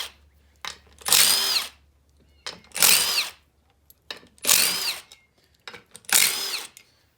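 A power tool removes the fan clutch from an old fan assembly in four short, loud bursts, each separated by a brief pause with small clicks and handling noise.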